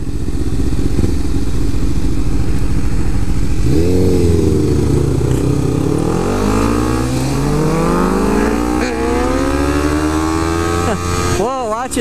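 A Suzuki GSX-R 1000 superbike accelerates hard, its engine note climbing through several rising gear sweeps, loud and close, with a rev spike at the end and voices faintly underneath.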